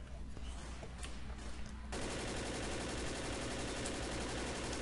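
Gunfire in the zombie shooter Left 4 Dead, heard first as faint scattered shots and then as a dense, loud burst of rapid automatic firing that holds steady to the end.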